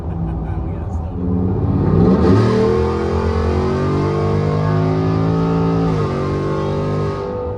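A car exhaust fitted with SPD high-flow catalytic converters revs hard, climbing to a loud, raspy peak and holding a steady drone before easing off, close and sustained, with a person talking over it.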